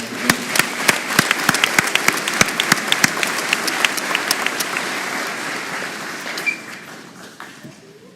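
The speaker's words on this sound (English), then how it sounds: "Can we give one more round of applause to all the scholarships?" An audience applauds scholarship recipients at a 2026 graduation ceremony, with sharp, scattered claps from a room of people that thin out and fade over several seconds.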